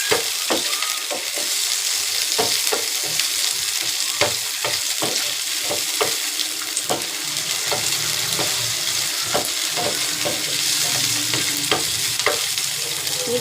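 Leftover ingredients soften in a little oil in a pan, with a continuous bright sizzle punctuated by frequent clicking stirs of a utensil, close and steady, no talking.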